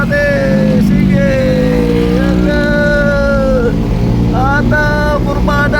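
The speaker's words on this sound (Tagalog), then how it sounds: "Grabe mga habulan mga motor." Motorcycles race up a mountain road near Pililla, Rizal, their engines droning loudly and continuously with rising and falling pitch glides as riders rev and shift.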